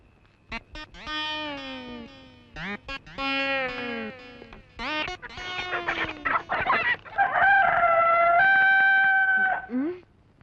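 A rooster crows at dawn, several loud drawn-out calls in close succession, with clucking and a cat-like meow mixed among them.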